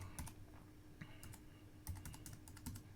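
Keys clatter on a computer keyboard in short bursts of quick, close taps, with brief pauses between groups, while a web address is entered into a browser.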